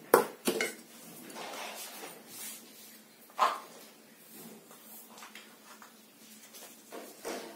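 Dry rice flour, maida and bombay rava are stirred together in a bowl for rava dosa batter, giving sharp utensil clinks against the bowl at the start and again midway, then softer scraping and rustling, with no voices.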